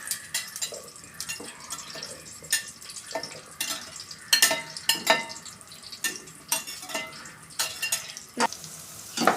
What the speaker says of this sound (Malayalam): എണ്ണ ചൂടായി അതിലേക്ക് നമുക്ക് മസാല പുരട്ടി വെച്ച സോയാബിൻ അതിലേക്ക് ആഡ് ചെയ്യാം